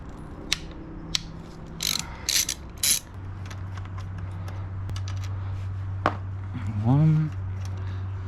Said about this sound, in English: time to remove this clutch slave. You got 3 hex head cap screws retaining this thing.